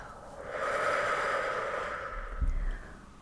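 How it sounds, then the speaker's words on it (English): A slow, steady exhale, one long airy breath swelling and then fading, close and soft, followed by a short nasal snort-like puff, alone with no talking. "And exhale."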